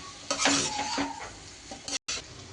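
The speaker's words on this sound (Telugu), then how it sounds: "ఇంకా దీన్ని బాగా ఫ్రై చేసుకోవడమే" Spicy shark fish pieces fry in a pan with a steady sizzle, while a spoon stirs and scrapes against the metal in several quick clinking strokes, heard up close.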